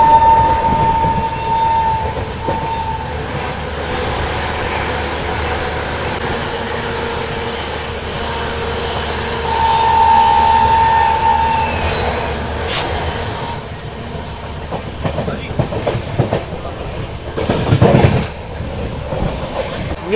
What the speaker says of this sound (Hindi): पूरा हॉन्किंग के साथ में भाग रही है यहाँ ट्रेन अपनी।